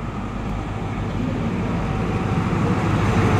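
HST high-speed train pulling into Bristol Parkway station, a steady loud low engine rumble and rolling roar that holds constant throughout with no speech.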